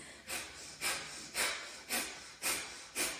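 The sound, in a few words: yoga breath of fire, sharp diaphragmatic breathing through nose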